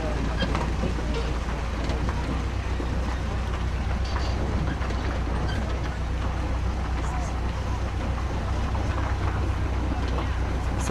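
Constant low engine drone and wind buffeting, heard near a small canal where a tour boat runs at a botanical garden, steady throughout with no clear voices.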